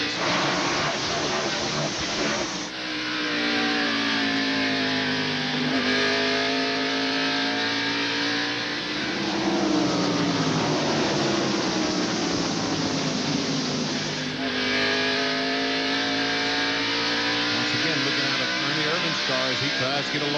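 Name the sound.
stock race cars racing at 1991 Valleydale Meats 500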